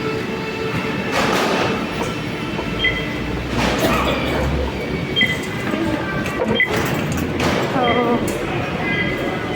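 An MRT train at a busy station in Manila, a steady rumble of rolling stock and platform noise with brief screechy tones and faint voices in the background throughout.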